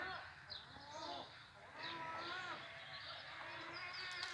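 Sheep bleat repeatedly over a steady outdoor background on Gökçeada island, with a few higher crow calls mixed in, moderately close.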